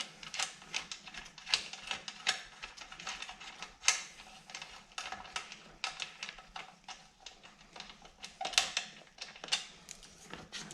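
Repeated clicking of a ratchet loosening two T40 bolts that hold a tray on a Harley-Davidson Touring motorcycle, fairly faint and close, in quick irregular bursts with brief pauses.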